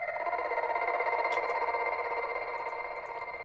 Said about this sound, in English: So these are little glitches I made.